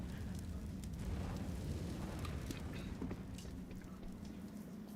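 An incendiary grenade burning in Counter-Strike during a professional esports match, a steady, dense crackling roar of flames with scattered faint pops, continuous and fairly quiet under a low broadcast background.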